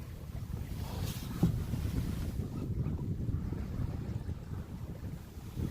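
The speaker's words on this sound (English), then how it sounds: "Got some little bitty wind coming off that water." Light wind blows off the Pacific Ocean off Ventura, California, over an Oday 272 sailboat, making a steady low rumble against the microphone with soft water wash and no talking.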